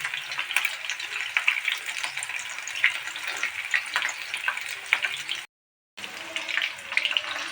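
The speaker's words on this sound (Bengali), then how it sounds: "প্রায় 15 মিনিট ধরে ধিমা আছে এটাকে ভাজলাম।" Chicken pakoras fry over a low flame in oil in a frying pan, giving a continuous close sizzle with a brief break near the end.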